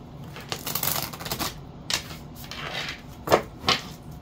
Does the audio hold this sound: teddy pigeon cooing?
no